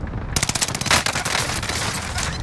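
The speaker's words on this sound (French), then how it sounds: "J'essuie des tirs." Rapid close automatic gunfire in the battle royale shooter Fortune's Keep, a dense stream of sharp shots with one heavier burst partway through, continuing steadily to the end.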